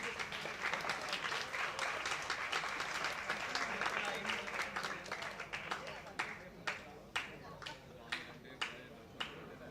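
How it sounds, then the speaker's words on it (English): Audience at an entrepreneurship masterclass event applauds, a dense burst of many hands clapping that thins out into a few scattered, distinct claps toward the end. "Please put your hands together."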